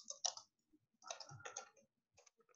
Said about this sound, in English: Let's just type some words.